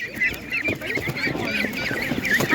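Ducks at an animal market, a meaty farm breed, quacking and honking steadily at close range over a busy background of other fowl, with no one talking.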